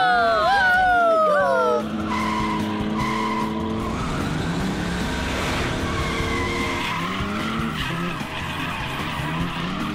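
Cartoon race car skidding with a sharp tire squeal at the start, then its engine roaring and revving steadily throughout, loud and close, with gear-shift pitch changes and speech partly mixed in.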